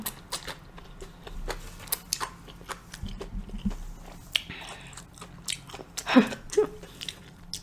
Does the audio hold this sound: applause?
no